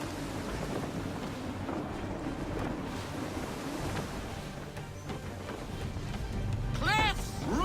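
Gusting wind and rushing sea surround a sailing ship in Assassin's Creed III naval play, a continuous broad roar that swells toward the end, with voices talking over it.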